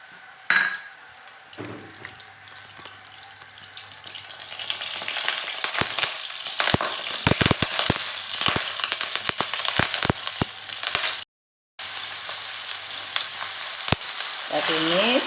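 Marinated beef stir-frying in a hot pan, with a steady loud sizzle and repeated sharp clicks and scrapes of a spoon or spatula stirring the meat.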